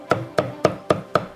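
A cleaver chops fish on a cutting board for traditional Shunde cooking, six sharp, evenly spaced knocks in a steady rhythm, close and clear with no talk.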